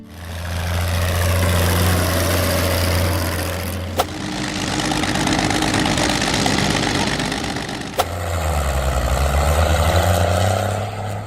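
A Dutra D4KB tractor, a Hungarian-built machine, idles with a loud, deep, steady engine rumble close by. The pitch sags and rises slightly, and two sharp clicks break in at regular intervals.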